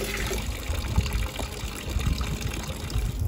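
Water trickles and splashes steadily in a stone village wash house with a fountain in Provence, a continuous close liquid babble with no voices.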